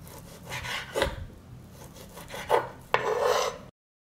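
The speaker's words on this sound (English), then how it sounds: "Chop some salami." A knife cuts through salami on a board in a few rasping, scraping strokes spaced irregularly, close and fairly soft, with no talking.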